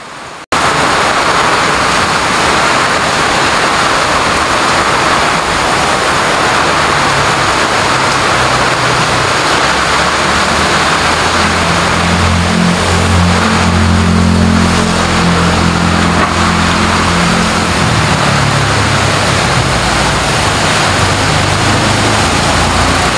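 A heavy afternoon downpour of rain during typhoon weather drums out a loud, constant hiss, with a low engine rumble running underneath.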